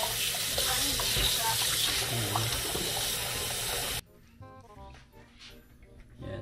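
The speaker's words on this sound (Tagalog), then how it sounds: "hugasan lang natin tong ating steak" Tap water runs steadily from a faucet over a raw steak for about four seconds, then cuts off, leaving quieter kitchen background.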